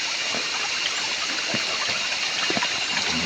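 A small waterfall in a garden plantation, fed by gravity piping, pours in a steady, dense rush of water with faint trickling and gurgling detail, close by and unbroken throughout.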